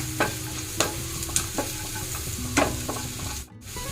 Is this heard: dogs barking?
no